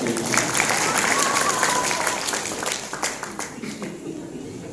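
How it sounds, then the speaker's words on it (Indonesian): Audience at a Nuzulul Quran commemoration in a village gathering claps together, a busy patter of many hands that starts strong and gradually thins and fades, with voices mixed in. "Tepuk tangan dulu dong"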